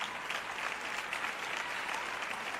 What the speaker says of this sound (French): Maintenant, vous applaudissez quand je dis que Jésus revient.